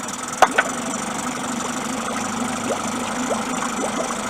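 A Nissan 9.8 outboard motor runs steadily after a water pump replacement, a continuous mid-pitched idle hum with two sharp clicks near the start and no talking.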